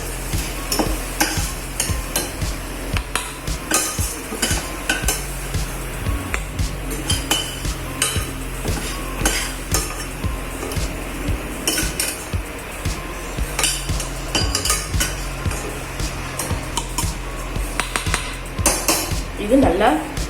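Fried onions being scooped out of an oily pan into a bowl, busy clatter of a metal spoon scraping and knocking against the pan and dishes, repeated clinks over a faint sizzle, close and continuous.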